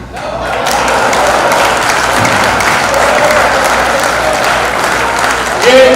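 Loud, sustained applause from a large audience at a Hindi-Urdu poetry gathering in Mahoba, 2018, fills the clip, dense continuous clapping that swells slightly near the end.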